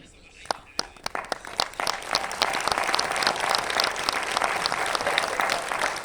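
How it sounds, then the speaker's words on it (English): An audience at a business event breaks into applause, starting with a few scattered claps and swelling into dense, steady clapping that stays loud to the end. "A round of applause to Mr. Ghani."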